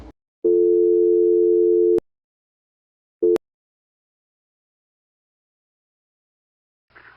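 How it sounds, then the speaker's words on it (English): A telephone line gives out a reorder busy signal: one long steady tone, a short clipped burst after a pause, then silence and a faint trailing sound. "A reorder is a fast, busy signal."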